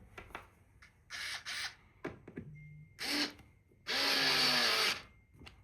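A Fanttik S1 Pro electric screwdriver whirs in several short bursts and then one longer run near the end, with small clicks and handling noises between the bursts.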